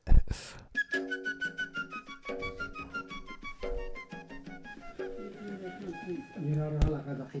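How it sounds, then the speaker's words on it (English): A fish whistle, a novelty gag-gift noisemaker, is blown over and over in a quick run of bright, wavering whistled tones, close and fairly loud, with a low voice sounding at moments. "Fish whistle."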